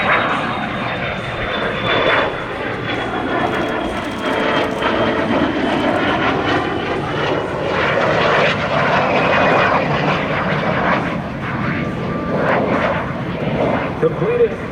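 A de Havilland DH-115 Vampire jet performs a four-point hesitation roll at an air show, its engine a steady, loud roar that holds for the whole stretch while an announcer talks over it.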